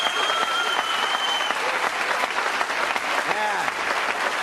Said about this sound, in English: Have a round of applause for the boys here.